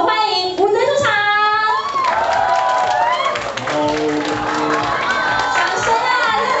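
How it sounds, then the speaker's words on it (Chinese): An audience at a Taiwanese press event claps and cheers for Wu Zun's entrance, with loud excited shrieks from young voices over dense applause, and an announcer speaking over the crowd. "掌声啊，热情啊，掌声！"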